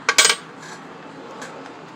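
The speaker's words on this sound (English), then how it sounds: "Pull the bolts out." Two 10mm bolts from the air filter assembly of a Lawn-Boy 21-inch mower with a Honda GCV160 engine, dropped with a quick pair of bright metallic clinks up close, then quiet.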